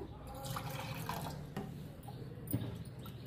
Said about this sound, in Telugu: కొన్ని వాటర్ కూడా పోసుకుందాము.